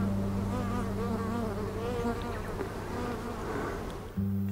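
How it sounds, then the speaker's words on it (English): A bee buzzes close by near a Flow Hive honey frame, a loud continuous drone with a wavering pitch that briefly dips and then resumes. "Little bee's on the end there."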